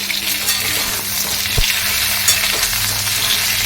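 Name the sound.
potatoes frying in a pan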